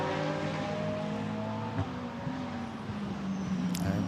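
Blancpain GT Sports Club cars, Lamborghinis and Ferraris, race at Barcelona, with a steady, loud engine drone carrying layered whining harmonics that shift in pitch as cars hold speed and pass.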